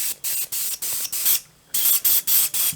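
Repeated short bursts of CA super glue accelerator spraying from an aerosol can during a camper door repair, about eight quick pumps in a steady rhythm with a brief pause midway, close and fairly loud with no talking.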